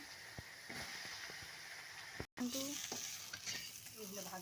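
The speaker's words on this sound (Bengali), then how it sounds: "আলুটা একটু ভেজে নেবো" Potatoes fry in a pan with a steady sizzle and sharp spoon clicks and scrapes against the pan, broken by a brief silent gap midway.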